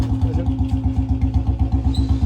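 A Bullet motorcycle engine thumps close by with a steady, even low-pitched beat at idle, its rhythmic chugging filling the short stretch.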